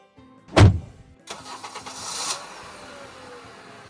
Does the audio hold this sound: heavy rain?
no